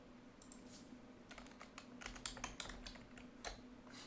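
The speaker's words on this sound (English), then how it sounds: "That's where everybody starts typing usually." Several people typing on computer keyboards: quick, clicky keystrokes in irregular clusters and bursts over a low steady hum, fairly soft and close, with no talking.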